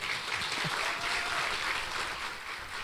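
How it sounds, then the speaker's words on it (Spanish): A church congregation applauds first-time visitors during a Spanish-language service, a soft, steady wash of many hands clapping at moderate distance, continuous and even for the few seconds heard. "Denle un aplauso."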